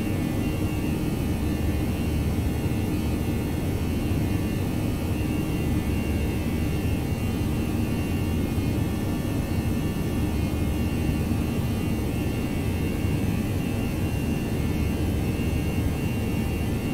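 Airbus A319/A320 jet engines at climb thrust in the X-Plane 11 simulator, a steady, dense roar and hiss holding constant throughout with no talk.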